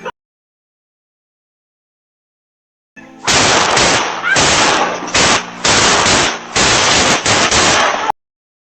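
Gunfire from camera footage of a shooting in which a woman was shot ten times: after a few seconds of silence, loud, dense rapid bursts of shots crackle in several runs for about five seconds.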